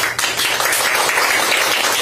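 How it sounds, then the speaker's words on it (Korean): Crowd applause at a Democratic Party rally in Busan, a dense, steady wash of many hands clapping at close range for about two seconds with no voices on top. "여러분 박수 보내주시기"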